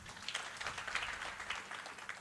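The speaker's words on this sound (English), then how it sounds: "A round of applause for Dr. Sim." Conference audience applauding after an introduction, a steady patter of many hands clapping close by for about two seconds, with no voices over it.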